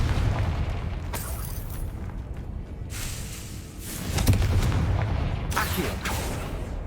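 Confringo fire spell explosions in the video game Hogwarts Legacy: loud, rumbling blasts that burst over dense, continuous combat noise.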